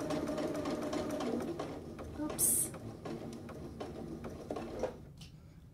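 A domestic sewing machine runs steadily, stitching in the ditch along a Hong Kong seam finish, with a continuous whirring motor and needle rhythm under a faint voice, pausing briefly near the end.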